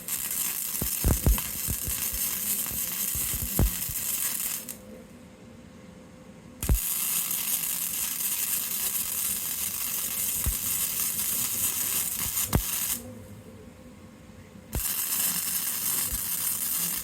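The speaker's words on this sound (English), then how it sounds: "Now when I weld, I try to weld in every position I can until I need to move the project" Metal being welded for a camera support platform, giving a steady close crackling sizzle that stops twice for a couple of seconds before resuming.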